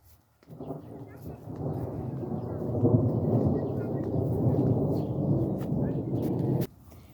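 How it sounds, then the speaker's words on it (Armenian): Heavy rain pours down outdoors with thunder rumbling through it, a dense steady roar that holds for several seconds before cutting off abruptly near the end. "անձրև է գալի"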